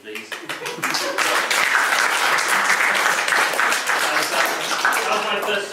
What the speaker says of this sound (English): Could you applaud me, please?